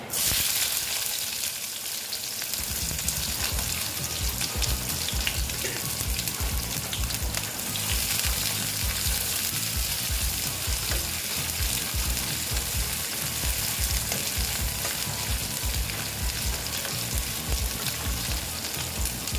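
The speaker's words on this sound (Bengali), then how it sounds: "পেঁয়াজটা অল্প ভেজে নিচ্ছি" Onions frying in oil with black cumin for a spicy tangra fish curry, a loud continuous sizzle close by with occasional stirring scrapes throughout, no voices.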